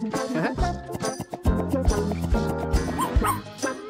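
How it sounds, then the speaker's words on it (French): A puppy barks and yips in quick, high bursts, close by and fairly loud, with some whimpering and a faint jingle between the barks. "Regarde, un bébé chien."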